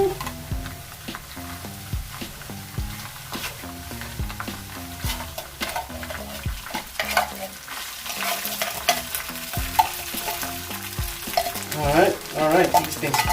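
Mushrooms stir-frying in oil for mushroom egg fried rice crackle and pop steadily, with spatula scrapes and background music running throughout.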